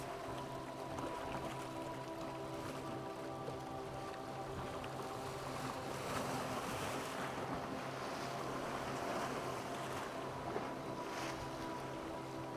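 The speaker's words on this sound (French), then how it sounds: "mer arrose copieusement les berges rocailleuses" Sea waves wash steadily over the rocky shore at Playa Pilar, Cuba, at low tide with clear water, a continuous broad surf wash with gusty wind noise on the microphone and no voices.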